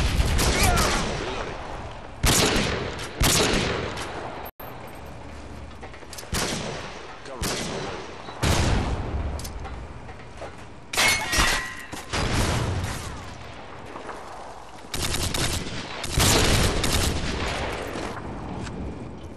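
Video game combat with a stun grenade and gunfire: loud, sharp bursts of shots and blasts come in repeated clusters, separated by brief lulls.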